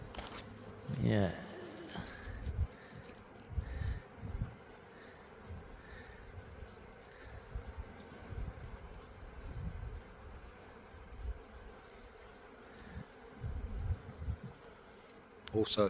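Quiet, steady buzzing of bees and wasps around a beehive, with a pigeon cooing in the background and people talking intermittently over the drone.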